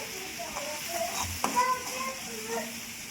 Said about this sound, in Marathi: ते वाटण मी तेलामध्ये छान तेल सुटेपर्यंत परतून घ्यायचं